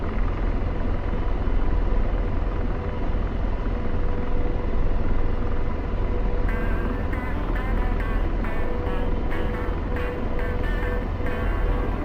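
Helicopter in a video game setting down on open ground away from a runway, a steady loud rotor and engine rumble that holds throughout, with a brighter whine joining in the final seconds.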